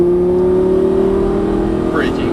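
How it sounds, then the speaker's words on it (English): A Lamborghini Gallardo Superleggera LP570-4 accelerates on throttle with a loud, steady engine drone that holds a tone, heard from inside the car under a voice. "Now squeeze throttle as you unwind the wheel."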